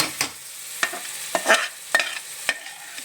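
Spiced filling for tinde (round gourd) being roasted in a pan, stirred with a spoon that scrapes and knocks in about six separate strokes over a soft, steady sizzle. The sound is close and there is no talking.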